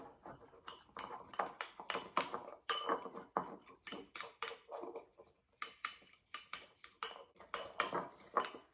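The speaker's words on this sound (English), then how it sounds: "Stir those together." Spoon stirring a tablespoon of beef broth into a mixture in a bowl, a run of quick, bright metallic clinks and scrapes in uneven rhythm, close and fairly quiet, with a brief pause midway.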